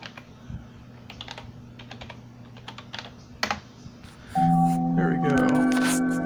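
An old Gateway computer keyboard clicks as a password is typed in short, scattered keystrokes, near and fairly crisp, before a loud sustained electronic tone takes over near the end.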